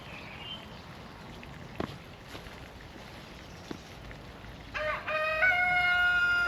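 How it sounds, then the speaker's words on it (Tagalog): A chicken in a backyard garden crows loudly near the end, after a stretch of quiet outdoor ambience with faint scattered clucks and knocks. "Sumunod yung isa nating manok ah."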